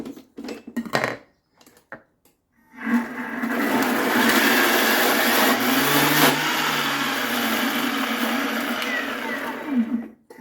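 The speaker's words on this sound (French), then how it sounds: "j'ai déjà mis 2 boîtes de maïs que j'ai égouttées, que j'ai mis dans mon Thermomix. Je vais les mixer pour commencer." A Thermomix blends two drained cans of corn: a loud, steady motor whir with a gritty churning texture runs for about seven seconds after a few brief knocks, then cuts off.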